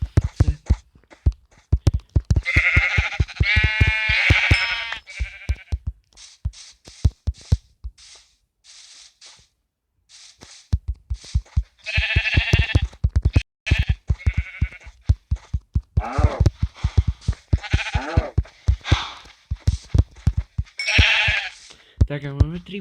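Blocky sheep in Minecraft Pocket Edition bleat repeatedly in clusters of short wavering cries, mixed with rapid clicking taps from gameplay, fairly close and loud.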